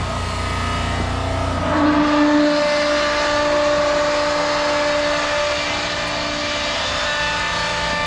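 A hydraulic test bench pump for a Caterpillar hydraulic cylinder starts up into a loud, steady mechanical drone with a whining hum. It swells briefly early on and then settles into a constant roar.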